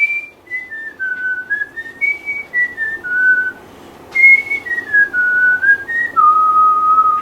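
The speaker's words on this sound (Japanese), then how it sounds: "この口笛、俺なぜか知らないけどめちゃめちゃ覚えてるんだけど" A clear, close whistled melody with sustained held notes and gliding steps, carried by a single person with no talking.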